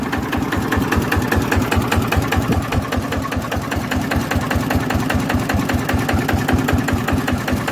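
A Thai-made Nok Fah single-cylinder engine runs steadily up close, its rapid, even thumping pulse continuing without a break and no talk over it.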